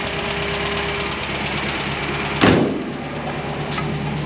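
A bright yellow MGB Roadster's engine idles steadily nearby, with a steady low rumble; one brief thud-like knock sounds midway, followed by a faint click near the end.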